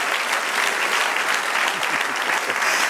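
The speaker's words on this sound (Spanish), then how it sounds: "Dale un aplauso al Señor." A church congregation claps steadily and loudly, dense applause filling the whole stretch without pause.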